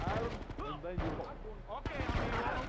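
Gunfire in the video game GTA Vice City, a couple of sharp shot bursts mixed with game sounds while someone talks over them.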